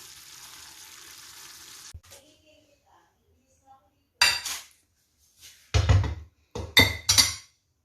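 Serving a pork dish with herbs, potatoes and carrots brings a run of clinking dishes and cutlery: a few faint taps, then several loud, close metallic clatters in quick bursts separated by short silences.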